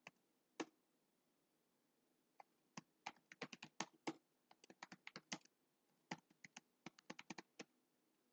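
Typing on a computer keyboard in Microsoft Word, with irregular bursts of crisp key clicks and short pauses, fairly close and with no talking.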